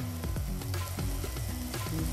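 Ginger garlic paste, cumin-coriander paste and spices fry with potatoes in a pan, a loud continuous sizzle broken by regular scraping stirs roughly every quarter second.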